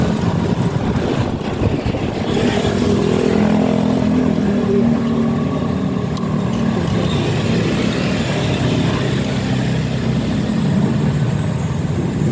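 A Suzuki motorcycle passes on a street, its engine a steady loud roar blended with traffic noise that swells and fades over several seconds.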